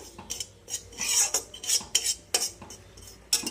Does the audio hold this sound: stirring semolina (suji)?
yes